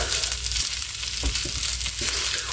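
Food sizzles steadily while being stirred in a frying pan in a home kitchen, with a continuous close hiss and a few soft scraping strokes, and no voices.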